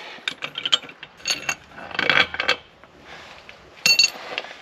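Bolts being loosened and removed from a spare tire mount on a hitch-extension spare tire holder: several bursts of metallic ratcheting and clinking, close and fairly loud, with short pauses between them and no talk.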